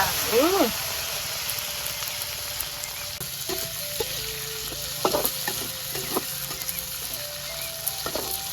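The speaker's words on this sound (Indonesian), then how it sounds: "Lomboknya digoreng, Lor." Chilies frying in a pan, giving a continuous loud sizzle with clatter from stirring. A low engine-like hum sits underneath, and there are faint tonal squeaks in the background.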